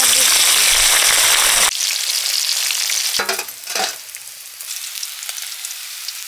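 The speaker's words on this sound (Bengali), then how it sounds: "তেল গরম হয়ে গেছে, মাছ দিচ্ছি।" Katla fish frying in hot oil, with a loud, close, hissing sizzle that drops abruptly to a softer crackle, then a brief clatter of stirring and a steady gentle frying sound.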